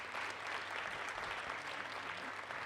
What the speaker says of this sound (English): let's give the facilities team a round of applause